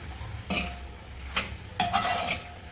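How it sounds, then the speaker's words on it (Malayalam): Kappa biryani ingredients being mixed together in a pot, with three distinct scraping, clinking stirs of a spoon against metal, close and moderately loud, spaced irregularly with quiet pauses between. "എല്ലാവരെയും കൂടി ഒന്ന് മിക്സിങ് ആക്കി നമുക്ക്"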